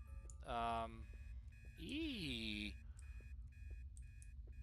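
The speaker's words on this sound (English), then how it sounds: "I don't like alarm clock ghosts, because they are so loud and they never shut up with the alarm clock" Loud, insistent alarm-clock ringing from a ghost in the Obsideo video game, sounding in two sustained bursts of wavering electronic tones over a steady low game hum.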